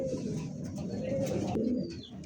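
A pair of red magpie pouter pigeons coo up close, a steady low throaty murmur running continuously through the short stretch with faint higher chirps above it.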